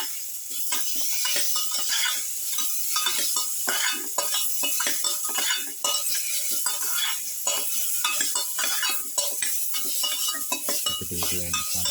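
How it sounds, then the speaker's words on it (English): Potato and pumpkin pieces being mixed with salt in a pan for a pepper pilaf, a steady scraping and stirring rattle with faint sizzling running throughout, close and fairly loud. "Salt and mix."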